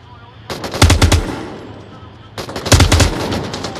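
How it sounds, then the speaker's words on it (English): Loud machine-gun fire in a video game comes in two separate bursts of rapid shots, each about a second long, with a brief quieter gap between them. "I don't even know where I'm getting shot from."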